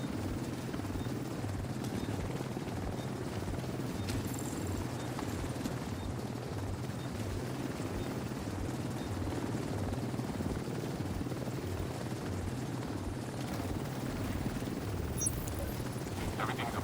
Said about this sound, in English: Everything's aboard and ready to go. Helo is headed back.